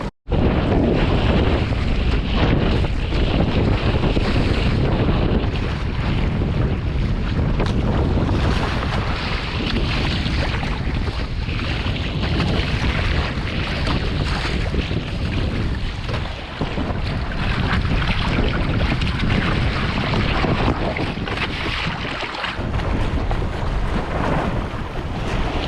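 Sailing kayak heading offshore in strong wind, with loud continuous wind buffeting the microphone over rushing water and waves against the hull, unbroken throughout.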